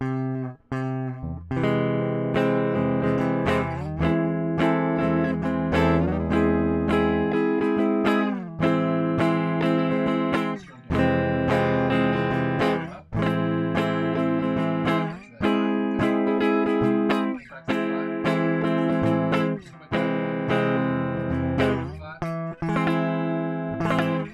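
Four-string guitar chords on the bottom strings are strummed one after another in a steady, clean pattern, each ringing out briefly before the next, with short pauses between groups.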